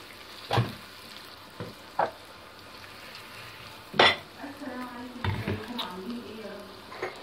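Onion fries in ghee and a little oil under a steady sizzle, broken by several loud scraping stir strokes against the pan. A faint voice may murmur briefly.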